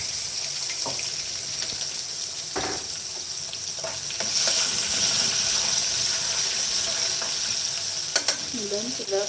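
Garlic, vegetables and spice frying and being stirred in a pan, with a steady loud sizzle throughout and occasional scraping knocks of the utensil close by.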